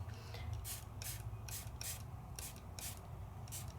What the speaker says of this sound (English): Little spray of water.